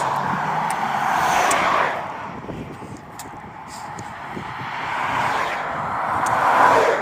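Road traffic passes beside a long-distance hiking trail, vehicles swelling and fading as they go by, with one approach, a lull in the middle and another rise toward the end.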